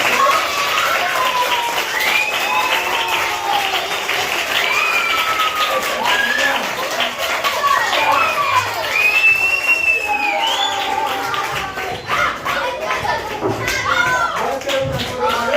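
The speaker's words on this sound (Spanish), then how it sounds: "Le damos un fortísimo aplauso." A school audience at CEIP Miguel de Cervantes in Armilla claps and cheers loudly and steadily, with children's voices calling out over the dense applause.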